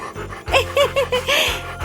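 A small dog pants in quick, close bursts, with several short breathy puffs and faint whimpery tones over roughly two seconds.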